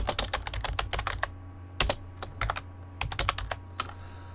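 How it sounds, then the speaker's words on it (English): Quick bursts of computer keyboard typing, close and crisp, with clusters of rapid clicks separated by short pauses over a low steady hum; no talking. "I was typing and it took me away from it."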